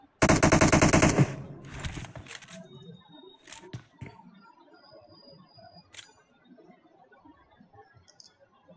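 Video game match with a loud burst of rapid automatic gunfire up front, then a few scattered single shots and clicks over a quieter background with faint game sounds.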